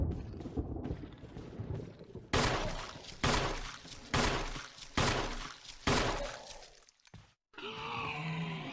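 Gunshots in a Resident Evil video game, five loud, evenly spaced booming shots after a stretch of grunts and movement, followed by a short pause and a changed ambience.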